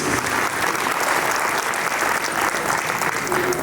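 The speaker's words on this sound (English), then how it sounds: "Let's give them a huge round of applause," A dinner crowd at a construction company's 70th anniversary celebration applauds after a dance performance, with loud, dense and continuous clapping from many people throughout.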